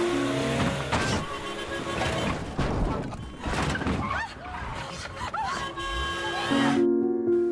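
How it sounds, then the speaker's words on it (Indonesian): A car cutting over a sidewalk to escape a traffic jam: loud revving engine with tyre squeals and clattering impacts throughout, ending in a steady engine hum. "Kyung Bae akhirnya memutuskan memotong jalan lewat trotoar agar bisa segera sampai"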